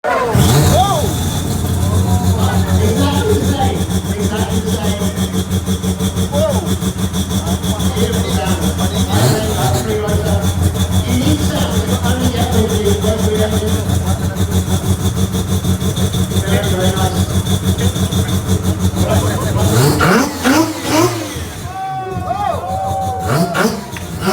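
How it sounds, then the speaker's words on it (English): A triple-rotor rotary engine in a kitted street build fires up and revs hard and loud over a constant idle, with a busy car-show crowd chattering throughout and a sharp burst of revving near the end. "now Beer by Oak is going to fire it up. It's a triple rotor, so let's listen to sound"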